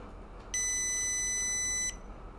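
An Arduino-driven electronic buzzer sounds one steady, shrill tone for about a second and a half, then cuts off, with faint background hiss around it.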